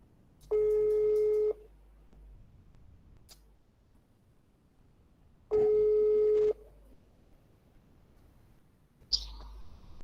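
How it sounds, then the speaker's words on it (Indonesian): Two phone ringback tones sound during a call, each a flat electronic beep lasting about a second, separated by several seconds of quiet, then a short click as the line connects. "Saya telepon dulu."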